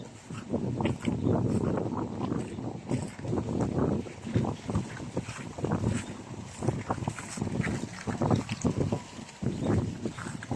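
Strong wind through bamboo and eucalyptus treetops buffets the microphone in a continuous roaring rush, rising and falling in gusts with no clear pauses.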